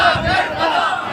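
A crowd shouts a slogan together, a short, loud and dense burst of massed voices at a religious gathering.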